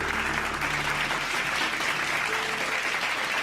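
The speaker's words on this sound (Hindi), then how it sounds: "सब राउंड्स के लिए, सब टीम्स के लिए तालियां" A studio audience claps for the competing teams at a quiz show, a steady, dense burst of applause lasting a few seconds with no break.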